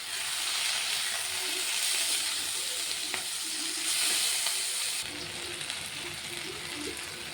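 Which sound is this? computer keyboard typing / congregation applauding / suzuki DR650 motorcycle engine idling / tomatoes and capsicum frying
tomatoes and capsicum frying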